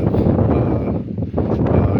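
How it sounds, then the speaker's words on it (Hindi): Strong wind blowing at 40 to 50 km/h buffets the microphone in loud, rough gusts that dip briefly midway and then return at full force. "इस समय आप देख सकते हैं कि काफ़ी तेज़ हवाएं चली हैं"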